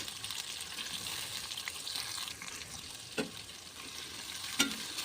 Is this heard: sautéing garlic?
yes